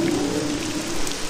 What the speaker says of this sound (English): Oh wow, it is raining.